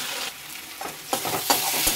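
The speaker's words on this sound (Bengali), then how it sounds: "বেশ ভালো করে কষানো হয়ে গেছে" Spices being stirred and sautéed in a pan for a light Bengali fish curry, with soft scraping strokes and a gentle sizzle, quiet and close, growing a little busier toward the end with no talking.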